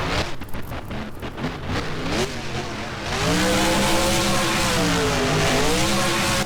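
A Max D monster truck in BeamNG, a driving simulation game, revs hard as it climbs a ramp in an arena freestyle run, a loud sustained engine roar rising and wavering in pitch, preceded by rougher bursts of throttle.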